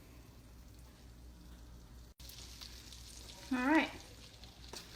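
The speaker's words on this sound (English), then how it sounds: "I'm taking my butter, my 5 tablespoons of butter, and I'm melting it" Five tablespoons of butter melt in a pan to start a roux for giblet gravy, a soft steady sizzle that runs quietly under a brief spoken phrase, with a short louder burst of voice partway through.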